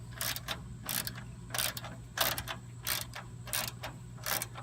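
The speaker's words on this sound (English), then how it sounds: "tighten up the front 10mm bolt" Ratchet working 10mm bolts on Prestige Off-Road inner fenders of a 2007–2017 Jeep, giving about seven short bursts of close, rapid clicking in an even rhythm, with quiet pauses between strokes over a steady low hum.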